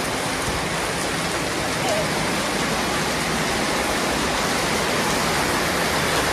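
Heavy rain falling steadily in rural Java, a dense, even hiss that holds at constant loudness throughout, with no voices heard.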